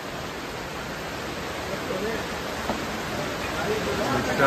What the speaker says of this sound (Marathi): बाहेर पाऊस बघू शकता खूप आहे पाऊस